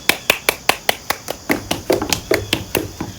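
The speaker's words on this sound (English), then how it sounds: "Let me clap for you." Hands clapping close by in a steady run of about fifteen sharp claps, evenly spaced at first and then slightly heavier and fuller toward the end.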